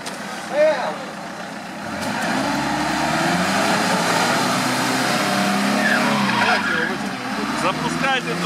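A Suzuki Jimny crossing a stream off-road, a steady engine drone with water sloshing and splashing throughout, fairly close and loud, while people talk and shout over it.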